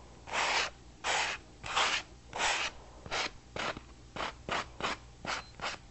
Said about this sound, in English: use a sanding block to remove all of these little burrs that are on the edge